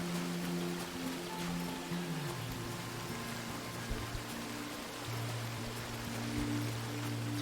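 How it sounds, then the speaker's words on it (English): Gentle flowing water ambience from the video game Among Trees, a steady stream-like wash running throughout under a low sustained tonal hum, with no talking. "Just love the sounds of the water."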